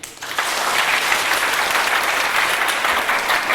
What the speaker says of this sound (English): let's try clapping twice as fast